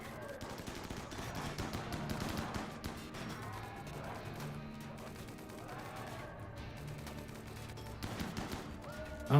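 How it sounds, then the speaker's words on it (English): Shredder turrets firing in a Rimworld battle: dense, continuous rapid gunfire with crashing impacts, loud and sustained throughout, with layered bursts overlapping. "Those shredder turrets are actually really going to town."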